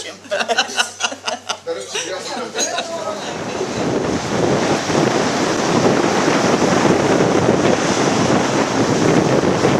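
Rough sea on a Cypriot shore, with waves and gusting wind roaring steadily and loudly after a few seconds of people talking and chuckling at the start, the wind buffeting the microphone.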